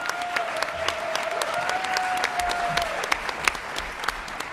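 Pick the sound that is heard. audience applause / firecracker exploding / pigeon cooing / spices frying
audience applause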